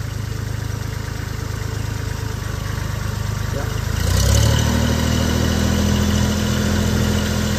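A 2007 Kubota L39 tractor's diesel engine runs steadily at a low, throbbing idle, then rises to a louder, higher pitch about halfway through as the throttle goes up, close and continuous.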